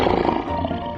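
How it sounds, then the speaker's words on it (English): A lion in a 3D animal slide video game lets out one brief, deep, rumbling roar, loud and close, filling the whole moment with rough low growl and no speech. "Lion."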